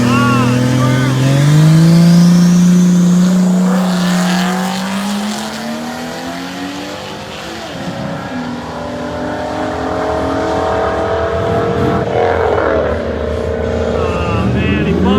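Lexus IS300 drag racing on spray against a Corvette, a loud engine climbing through rising revs with gear changes, roaring close then fading and rising again, with voices talking over it.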